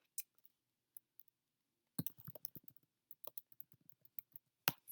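Typing on a computer keyboard: sparse, quiet key clicks at first, then a short run of rapid keystrokes and a few more isolated taps, close and alone.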